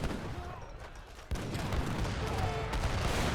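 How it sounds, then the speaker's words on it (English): Great bombard cannon shots in Age of Empires III land as a sudden heavy boom, followed by dense overlapping battle noise of gunfire and impacts. "Oh, but the bombard shots!"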